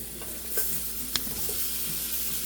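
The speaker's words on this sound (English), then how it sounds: "So I'll let you hear the sizzle of the shrimp when it hits." Shrimp hitting a hot pan for a stir-fry sizzle loudly and steadily, a close, bright hiss with a couple of sharp pops and no voices.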